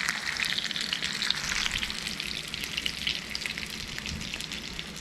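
Smallmouth bass fillets frying in a pan in a Cajun-style cook, a steady close sizzle with crackling spits that holds level throughout, no voices.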